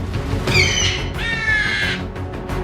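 A crow caws in two loud, drawn-out calls close by, each harsh and rasping, with a short gap between them over a faint background.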